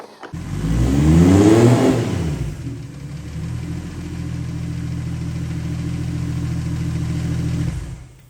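A car engine fitted with a new turbo manifold revs hard once, the pitch climbing and falling, then settles into a steady loud idle rumble before cutting off.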